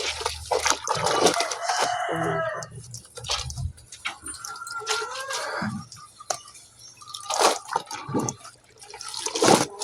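Water splashes and drips as a foam cover is soaked in a basin, the sloshing coming in uneven bursts up close, with brief background noises between.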